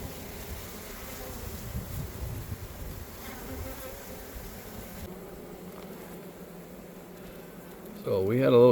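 Honey bees buzz in a steady, close drone around an open beehive during maintenance on a sparse frame, with a louder, rougher burst of handling or wind noise near the end.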